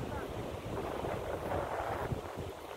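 Strong wind buffets the microphone on Kuakata sea beach while the sea roars behind it, a dense, steady rushing roar that holds for the whole moment without any clear break.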